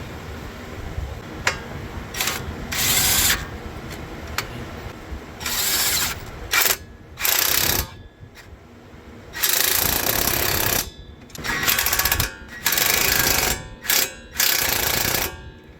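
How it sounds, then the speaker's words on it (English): Bursts of rapid mechanical rattling from a tool tightening strut bolts on a 2002–2006 Honda CR-V, repeated in short runs of one to two seconds with pauses between, close and loud in an outdoor backyard setting. "Now we just got to tighten these bolts back up."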